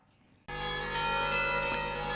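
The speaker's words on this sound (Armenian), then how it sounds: "Մայրաթորում ղողանջում են զանգերը մարդկանց ավետելու Սուրբ Ծննդյան հայրապետական պատարակի սկիզբը։" Church bells ring out loudly and steadily after a short quiet start, their tones layered and sustained with no voices.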